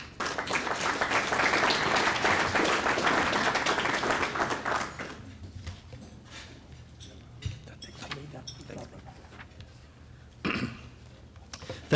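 Warm, sustained applause from a civic association luncheon audience welcoming a speaker, loud and dense for about five seconds before thinning to a few scattered claps and quiet room murmur.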